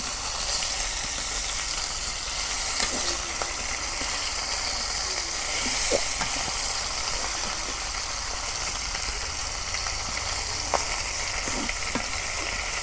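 Pangas fish fries in a pan for a tomato curry, with a steady close sizzle and small crackles and pops scattered throughout.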